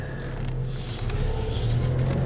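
A 2004 Chevrolet Colorado pickup's engine rumbles low and steady as it drives, growing slightly louder toward the end, with no voices.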